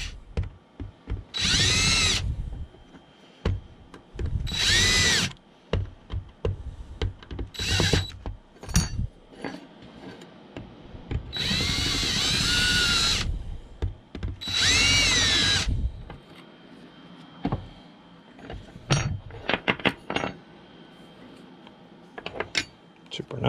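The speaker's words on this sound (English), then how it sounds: "We're just going to get a very large drill bit" A power drill fitted with a large bit whirs in short and longer bursts while deburring sharp edges, with quieter handling noises and low voices between runs.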